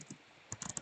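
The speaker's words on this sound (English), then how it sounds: "let me just type again, because that'll be easier to read" Keys tapped on a computer keyboard in a quiet room, a single click followed after a pause by a quick burst of four or five crisp, close keystrokes.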